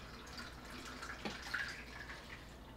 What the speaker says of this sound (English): developer's done. Back into the developer bottle.